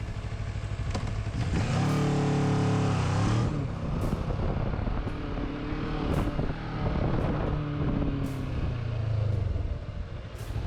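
A motorcycle weaving through a slalom exercise at roughly 30–40 km/h during licence-practice riding, its engine loud and near, revs rising and falling repeatedly as the throttle is worked through the turns.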